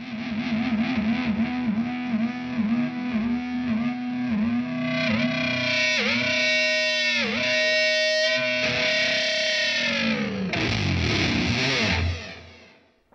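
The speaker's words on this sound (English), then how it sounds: "I wanted to focus on some of the higher gain tones that these things can do" A heavily distorted, high-gain Fender Player Plus Meteora electric guitar plays sustained chords and ringing notes, loud and saturated, fading out at the end.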